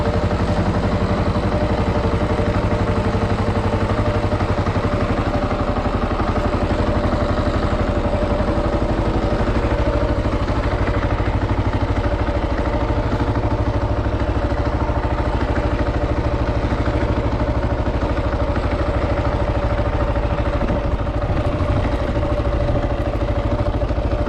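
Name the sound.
Kawasaki KLR 650 motorcycle engine idling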